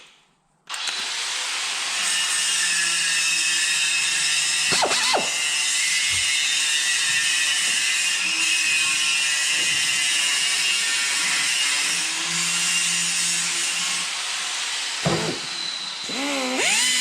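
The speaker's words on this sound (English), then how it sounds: "So now I'm going to get Mr. Dremel at it." A Dremel rotary tool bores out a 32mm hole on a Ford Capri 2.9 Cosworth twin-turbo build, giving a loud, sustained high whine close up after a short silent start, with a few brief knocks and pauses.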